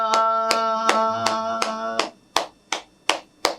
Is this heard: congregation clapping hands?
yes